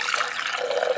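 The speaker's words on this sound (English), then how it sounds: "just going to pour my coffee right in there" Coffee pours into a cup of ice for a homemade pumpkin spice frappuccino, a brief close trickling splash heard alone.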